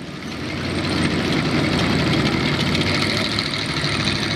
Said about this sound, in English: Stewart tank operating